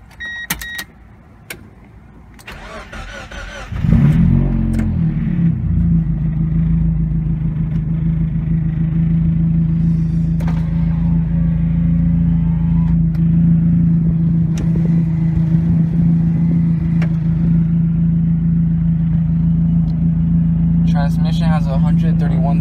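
A 1999 Mazda Miata engine cranks with a short whir, catches, and settles into a steady idle rumble that continues unbroken, close by.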